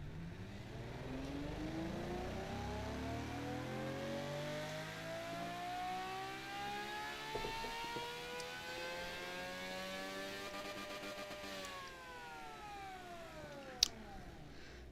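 An engine runs steadily and rises and falls in pitch through revs, with smooth harmonic sweeps climbing and easing back over about fifteen seconds, loud and close, plus a sharp click near the end.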